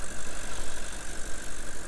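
An Audi RS4 Avant's 4.2 V8 engine idles close by, a steady rumbling burble with a pulsing uneven rhythm.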